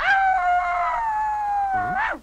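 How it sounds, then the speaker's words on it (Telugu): A dog howls in a Telugu film scene: one long, sustained, tonal howl that holds steady and then bends upward at the end, loud and alone. "అదే ఇందాకడి నుంచి అట్టాగే మరుగుతున్నా కుక్క."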